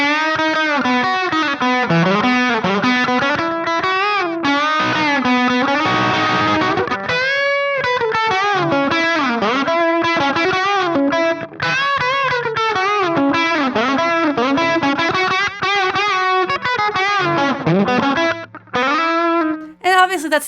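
Fender Player II Telecaster riffing through a driven amp, sustained distorted notes and bends played continuously and loudly, with no pauses.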